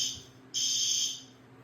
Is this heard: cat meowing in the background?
no